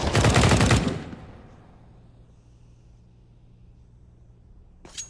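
A loud burst of rapid gunfire from a shooter video game match at a WINNERS League EU esports event fills the first second, then fades into a quiet, low hum with a faint click near the end.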